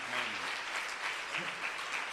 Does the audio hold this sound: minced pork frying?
no